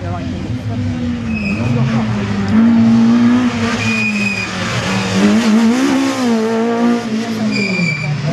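Citroën Saxo race car running a slalom course, its engine revving and dropping repeatedly between turns at moderate distance while an announcer talks over it.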